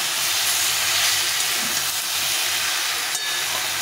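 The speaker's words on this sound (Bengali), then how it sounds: "টমেটো দিয়ে আর একটু ভেজে নিতে হবে।" Vegetables and sliced tomato frying in a pan give a steady, loud, dense hiss that stays constant throughout, close up with no voices.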